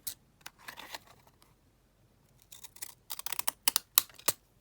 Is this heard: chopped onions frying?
no